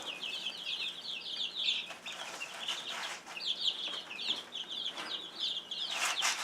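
Backyard chickens cluck and chatter in short repeated bursts, a few birds close by over a quiet background, with faint rustling between calls.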